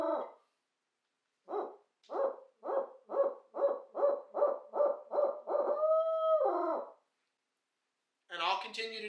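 A hunter imitates a barred owl with his voice, a series of rhythmic, evenly spaced hoots building into a drawn-out trailing call, loud and close in the quiet outdoors, used to provoke wild turkeys to gobble.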